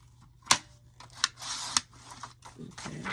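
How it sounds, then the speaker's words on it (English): A Fiskars paper trimmer slices through paper in a few sharp close clicks and short scraping strokes, with quiet pauses between cuts and no talking. "So go ahead and cut it 5 1/4."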